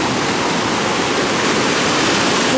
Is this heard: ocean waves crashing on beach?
yes